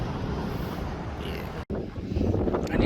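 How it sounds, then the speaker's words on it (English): Gusting wind buffets the microphone on a street in San Francisco's Financial District, a loud, rumbling low roar that briefly drops out and then returns stronger. "It is pretty windy"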